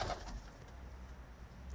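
A pigeon coos softly once near the start, then low steady background rumble fills the rest of the short stretch.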